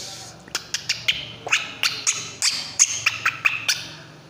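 Birds give a run of about a dozen sharp, bright calls in an irregular rhythm over soft background noise, close and fairly loud, with no talking.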